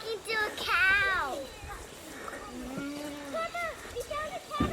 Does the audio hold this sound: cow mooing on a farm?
yes